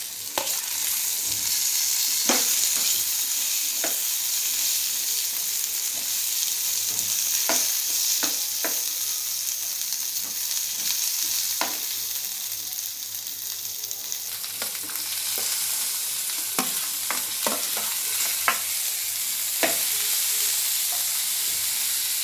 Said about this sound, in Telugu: అందులో ఉల్లిపాయలు, ముందుగా కట్ చేసి పెట్టుకున్న టమాటా వేసి బాగా వేపాలి